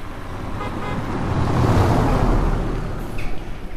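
A car passing on a street in Buxton by a shopping centre, its engine and tyre noise rising to a close, loud peak and then fading under general traffic.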